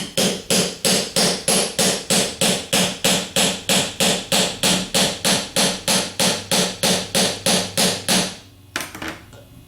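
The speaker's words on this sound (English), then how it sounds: "As you're tapping the bearing on, it should only be contacting the inner race." Steady, evenly spaced hammer taps driving a bearing onto an alternator rotor shaft, about two dozen loud metallic blows in a regular rhythm, ending with a few softer knocks.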